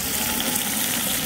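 Water gushes steadily from a hose pipe at a temple kitchen preparing a community meal, a continuous close broadband rush with no pauses and no voices.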